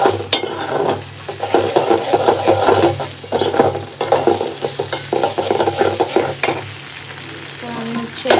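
Onions softening in a pan with ginger and garlic, stirred steadily while they fry, giving a continuous close sizzle broken by scraping strokes of the spoon, with no talking.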